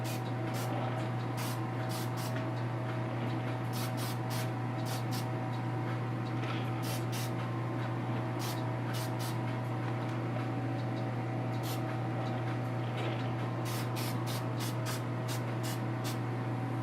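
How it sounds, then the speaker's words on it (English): Testors Dullcote matte lacquer sprayed from an aerosol can in short hissing bursts, some single and some in quick clusters, over a constant loud electrical hum and background noise. "Gonna hit it with some Tester's dull coat, just kind of strengthen it up a little bit."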